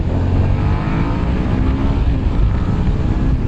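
A Suzuki SV650 motorcycle engine running under way, a dense steady rumble mixed with wind roar, loud and continuous throughout with no talking.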